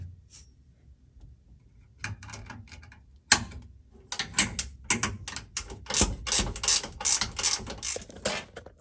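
A ratchet tightens a bolt on a B&M Magnum Grip Pro Stick shifter, rapid clicking bursts that start sparse and quiet and then grow louder and denser, close up and with no voices.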